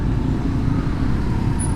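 A car rolls along the road nearby with a loud, continuous low rumble of engine and tire noise, heard as a steady roar without a clear pass-by peak.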